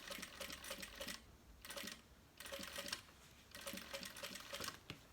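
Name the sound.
sewing machine stitching a bag seam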